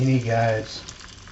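A fish drops into hot oil in a pan and begins a soft, steady sizzle that continues after someone speaks briefly at the start.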